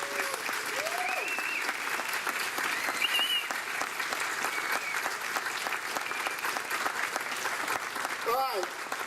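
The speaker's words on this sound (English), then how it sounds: "I'd like to have a nice round of applause one more time" Crowd at a Veterans Day observance gives a sustained, steady round of applause for veterans, with voices and faint whistles mixed in throughout.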